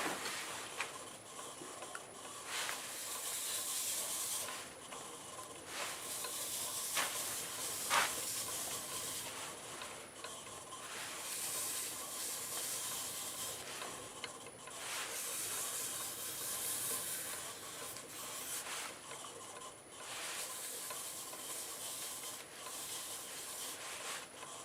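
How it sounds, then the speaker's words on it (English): A dust collector runs steadily in a woodturning shop, giving a constant airy hiss and roar with faint rubbing and sanding scrapes from a slowly turning macadamia bowl riding on top. "going to get my dust collector going and finish the sanding"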